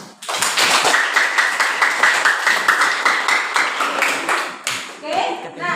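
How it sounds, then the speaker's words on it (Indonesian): A classroom group claps for a student group after its presentation, giving a steady close burst of many hands for about five seconds before it thins out and fades. "Berikan aplaus."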